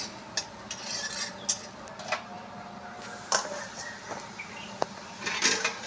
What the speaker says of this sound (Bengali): এবার আমার নারকোলটা ভাজা হয়ে গেছে, এবার আমি তুলে নিচ্ছি